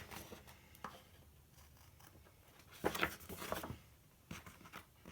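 Paper being cut for a Happy Planner memory-keeping photo journal spread, a few soft, quiet snips and rustles at irregular intervals with a brief louder burst in the middle.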